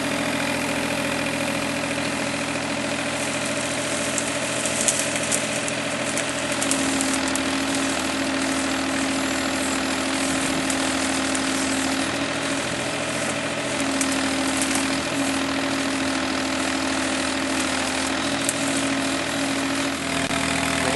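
An excavator digging a basement egress window hole: steady diesel engine rumble and idle drone, mid-distance and continuous, with faint clanks of the bucket now and then.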